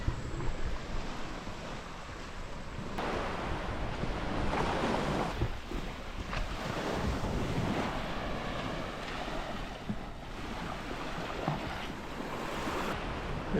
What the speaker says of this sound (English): Looks like a wonderful beach.